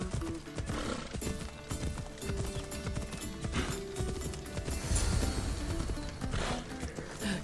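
Rapid clip-clop of a galloping horse in Assassin's Creed Odyssey, hooves thudding in a fast, continuous rhythm with a louder burst around the middle, no talking.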